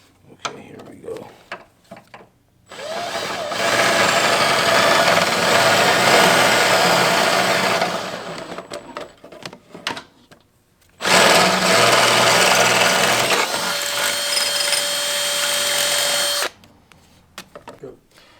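A power drill with a step bit widens a hole in metal, running loud and steady in two long grinding bursts with a short pause between them; a voice talks briefly before and after the drilling.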